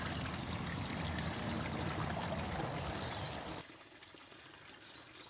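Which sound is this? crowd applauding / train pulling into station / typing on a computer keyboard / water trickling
water trickling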